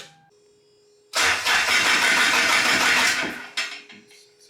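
A K24 engine swapped into an MR2 Spyder cranks with its coil packs disconnected, a loud, close starter whir lasting about two seconds that winds down without firing.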